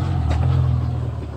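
A BMW car engine held at a steady low rumble during a driving lesson in Ochotnica Dolna, with a slight rise in revs as the gas pedal is pressed; close and continuous, with no talking.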